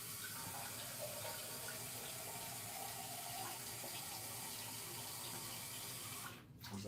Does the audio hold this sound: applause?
no